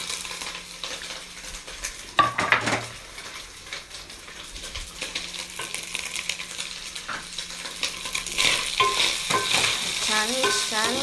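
Two sliced onions frying over low heat in a pan for a Kenyan omena fish dish, a soft continuous sizzle that grows brighter toward the end, broken by a sharp clatter early on and intermittent stirring scrapes.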